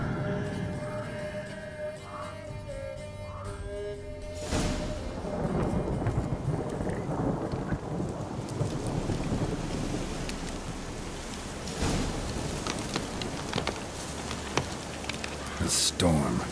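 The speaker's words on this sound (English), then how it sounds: "A storm, damn it." A storm in the video game The Witcher 3: steady rain pours throughout while a loud thunderclap breaks in partway through, rumbling on under wind, with faint game sounds early on.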